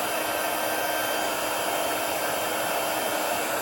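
A heat tool blows loud and steady for heat embossing a stamped background, its continuous fan-and-heater whoosh close and unbroken throughout, with no voices.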